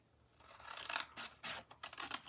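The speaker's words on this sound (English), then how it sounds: "Actually, I'm going to get my big scissors for this." Big scissors slicing through paper while trimming side tabs for a ribbon dispenser, heard as a run of close, crisp snipping and rasping cuts in quick succession with no talking.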